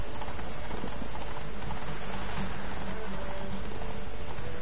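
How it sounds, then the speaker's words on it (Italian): Horse hooves clip-clop steadily in The Witcher 3, a continuous rhythmic trotting across the whole stretch, loud and close against a dense, busy game soundscape. "C'era un cavallo senza il fantino."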